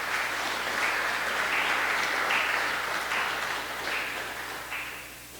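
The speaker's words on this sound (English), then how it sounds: "Let's give those guys a round of applause." A school assembly audience claps steadily for a group of students, a dense broadband patter that stays loud and then gradually thins and fades toward the end, with no voices over it.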